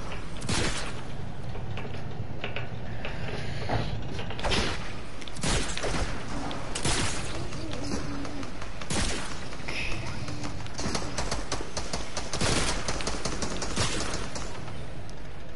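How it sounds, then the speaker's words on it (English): Gunfire in the video game Fortnite, many scattered shots and bursts of varying loudness, some near and some farther off, spread across a tense match with faint game ambience and no clear talk. "I hear lots of gunshots now."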